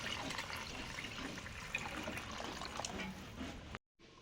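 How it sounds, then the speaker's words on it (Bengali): Water poured into a cooking pot over washed rice for khichuri, a faint steady splashing stream that runs for several seconds before briefly cutting out. "এবার জল দিয়ে দিচ্ছি।"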